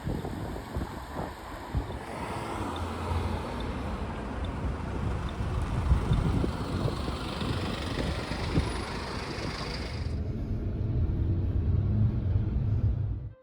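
A Mercedes van running as a city bus on a neighborhood circulator route pulls away from a stop, its quiet engine a steady low rumble with road and wind noise throughout, no voices.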